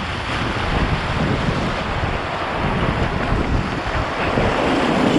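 A Pyranha Duo tandem kayak running river rapids in an Ocoee race, with continuous loud rushing water and wind buffeting the microphone throughout.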